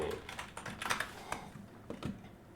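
Quiet, close computer keyboard typing comes in quick irregular bursts of key clicks with short pauses between them, alone without talk.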